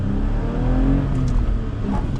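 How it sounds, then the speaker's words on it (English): A 2020 Toyota Tacoma TRD pickup with a six-speed manual accelerates hard after the clutch is let out, its engine note rising loud and close with a steady drone and brief tire chirp. "let me do a little acceleration test just for fun, since we do have a manual compared to the automatic"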